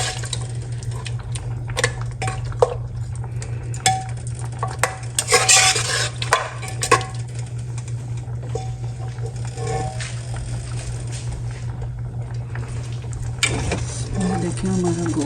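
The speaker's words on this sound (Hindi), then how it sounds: "अब इसको अच्छी तरह भून लेते हैं" Beef stir-fries in about half a cup of oil in a pot for chana dal gosht, a steady sizzle under repeated scraping and clinking of a spoon against metal, with a low hum throughout.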